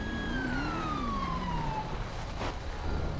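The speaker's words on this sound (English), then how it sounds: "Why do I hear sirens?" A police car siren wails inside a video game, one loud descending electronic sweep that fades out, with no talking over it.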